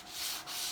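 Fine-grit sandpaper rubs by hand across a cured resin surface in two steady strokes, a close, soft, airy scratching with a brief dip between passes.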